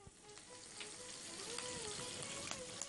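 Green chillies dropped into hot oil in a pan after frying cashews, giving a steady moderate sizzle with faint crackles throughout and no voices.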